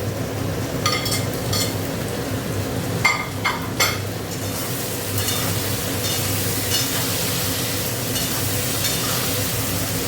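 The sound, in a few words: tomatoes frying in a pan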